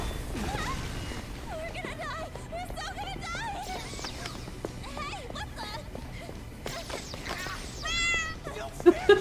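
Short cat meows sound repeatedly in Persona 5 Royal over game music and ambient noise, with a rising cry near the end.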